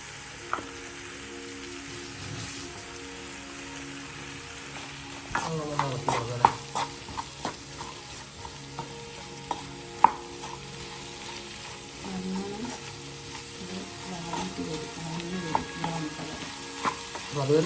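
Egg roast masala of onions, garlic and salt sizzles steadily in a pan, with scattered scraping and clicking stirs growing busier midway, faint tonal background hum underneath.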